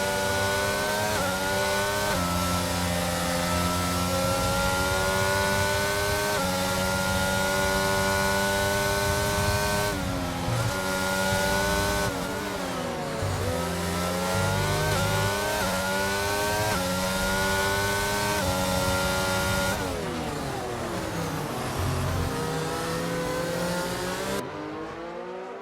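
Formula racing cars with McLaren engines in a racing video game scream at high revs, the continuous loud whine rising and dropping through repeated gear shifts.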